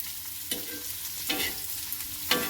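Onion, curry leaves and green chillies fry in a pan, a soft steady sizzle broken by three sharp scraping stirs spaced about a second apart, close and unaccompanied by talk.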